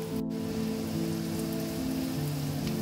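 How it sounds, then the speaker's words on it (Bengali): Chopped onions sizzle in hot oil, a steady crackling hiss close by that carries on without pause, with a low tonal hum running underneath. "তেলের মধ্যে পেঁয়াজ কুচিগুলো ঢেলে ভালো করে কিছুক্ষণ নাড়তে হবে"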